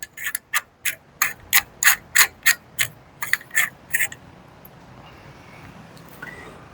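A ratchet wrench tightens the timing part of an MPX conversion kit in about a dozen sharp, evenly spaced clicking bursts up close, then falls quiet.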